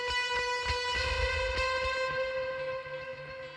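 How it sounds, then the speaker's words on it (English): Electric guitar through a Bassman amp model with a distortion pedal feeding a delay, ringing out as sustained notes with a few picked attacks that fade into delayed repeats, close and alone. "I used this patch here, which is a Bassman amp with a distortion pedal in front of it that goes into a delay"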